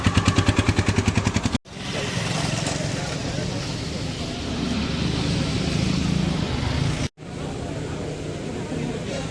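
Vehicles hauling supplies toward a relief camp after the Wayanad landslides: a mid-pitched engine runs and idles close by, with a rhythmic pulsing stretch at the start, abrupt cuts, and people talking over it.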